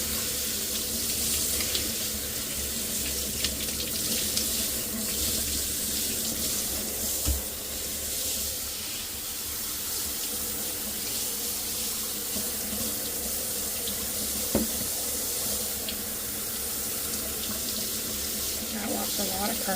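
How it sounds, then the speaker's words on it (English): Water runs steadily from a shower while a K&N air filter is rinsed clean, a continuous close hiss and splash with a few brief knocks. "I wash filters in the shower"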